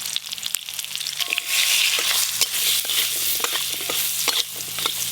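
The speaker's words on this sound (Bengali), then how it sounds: "এই যে কেটে রাখা কাঁচা তেঁতুল এবার হালকা করে একটু ভেজে নেব।" Raw tamarind pieces fry in hot oil tempered with five-spice, a steady loud sizzle with crackles and the scrape of stirring throughout, no voices.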